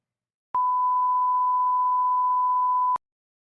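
A single sustained electronic beep, a pure steady tone lasting about two and a half seconds, starting and stopping abruptly with silence before and after.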